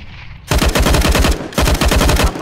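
Two loud, rapid bursts of automatic fire from a PP-Bizon submachine gun in a competitive Counter-Strike: Global Offensive match on the Mirage map, each a dense string of close, sharp shots with a short gap between them.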